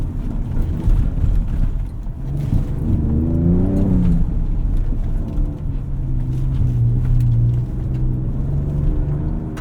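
A 2024 Ford Ranger Raptor tears off-road over high-speed whoops, its engine and suspension giving a loud, steady, close rumble that swells and eases across the run.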